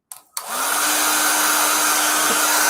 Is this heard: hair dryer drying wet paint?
yes